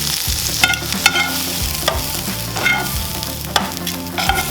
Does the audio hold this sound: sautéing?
yes